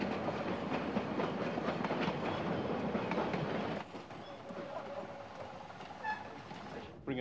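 Train on the Great Lithgow Zigzag railway, a steady near rumble with clickety-clack of wheels on rails that drops and eases partway through, as the train slows on the grade.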